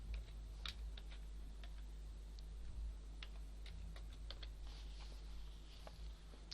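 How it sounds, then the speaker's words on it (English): Faint computer-keyboard typing ticks along in light, irregular keystrokes over a steady low hum, quiet and close with no voices. "Now under host name, when you can type localhost."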